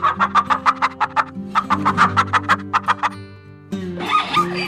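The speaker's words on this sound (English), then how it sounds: "This is hen." A hen clucking in a quick, loud, close series of rhythmic clucks, then a brief pause and a harsher burst of squawking cackles at the end.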